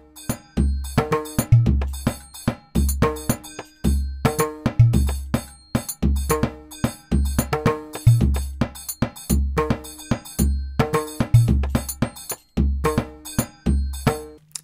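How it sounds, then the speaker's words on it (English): Three layered electronic drum tracks play a polyrhythm together, punchy kicks and bright clinking, cowbell-like hits repeating in a tight interlocking loop, loud and close with no speech. "And these three different drums sounds like this together."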